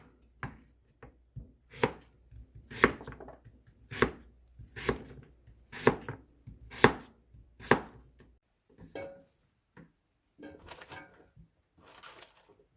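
A knife slices radish on a cutting board for nabak mul kimchi, with about eight sharp, evenly spaced chops up close, then softer, quicker cuts toward the end.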